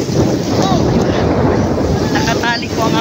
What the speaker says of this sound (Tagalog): mahangin na siya